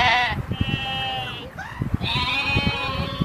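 A goat lets out several loud, wavering bleats close by, with short gaps between them. Soft thumps and scuffling sit underneath.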